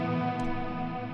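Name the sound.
reverb tails continuing after delay switched off, Fractal effects unit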